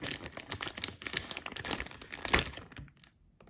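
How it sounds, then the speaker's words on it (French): Scissors snip a small hole in a plastic mushroom grow bag, giving a close run of crinkling, crackling cuts and rustles that trail off into quiet at the end. "je vais donc prendre mes ciseaux"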